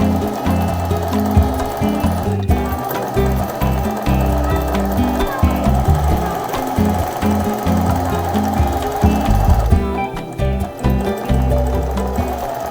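A sewing machine stitches a quilt with a loud, close, steady rapid mechanical thumping that continues through most of the stretch, broken by two brief stops.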